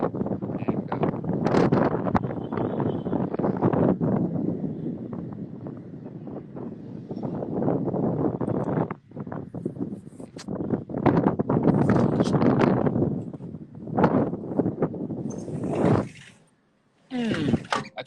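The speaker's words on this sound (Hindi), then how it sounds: "एक्चुअली बहुत ज़्यादा हवा चलती है" Strong evening wind gusts roar across an open outdoor spot, loud and continuous with rough turbulent rumbling, easing briefly near the middle and dropping to near silence just before the end.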